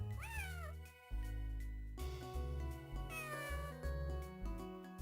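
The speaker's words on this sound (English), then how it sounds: "Third cat that makes a different noise." A cat in the Phantasy Star 0 video game gives a sliding, synthesized meow over looping game music, followed by a few more short cat cries, loud and close.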